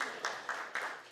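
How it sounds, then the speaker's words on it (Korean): A few sharp claps at a steady beat in a church during a Sunday worship service, welcoming a member back after a long absence. The claps are short and fairly close, over a soft room hum. "박수로 한번 환영을"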